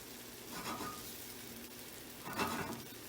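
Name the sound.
egg frying in a pan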